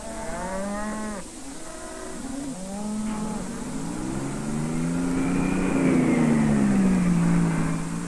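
Corn-fattened cattle on a farm moo repeatedly, several drawn-out lowing calls from nearby animals, one long moo dominating the second half.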